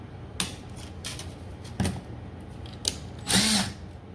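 A power drill winds wire into coils on a mandrel for chainmail, with short bursts of whirring separated by brief pauses and a louder, longer burst near the end, close and alone.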